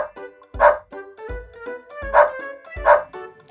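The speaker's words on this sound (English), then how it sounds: "Dog." A dog barks in three loud, close bow-wow bursts, evenly spaced, over a soft background tune.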